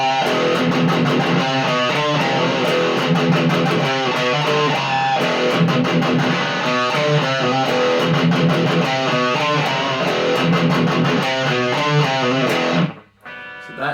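A distorted electric guitar chugs through a fast metal verse riff with hammer-ons and pull-offs, loud and continuous for about thirteen seconds before stopping abruptly, with no voice over it.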